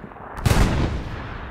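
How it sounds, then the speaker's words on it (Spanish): Gunfire in the Hell Let Loose war game during a competitive league match: a sudden loud burst of close, heavy shots starting partway through, trailing off into rumbling battlefield noise, with no talking. "me disparan"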